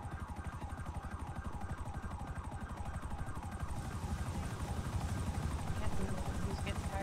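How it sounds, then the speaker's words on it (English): A helicopter in the FiveM game flies low, its rotor throbbing in a steady rapid pulse that swells slightly louder toward the end, with voices talking over it. "Oh my god, that helicopter's low."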